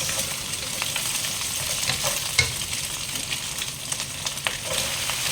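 Mixed vegetables fry in a hot pan, giving a constant close hiss and sizzle broken by occasional clinks and scrapes of stirring. No one speaks.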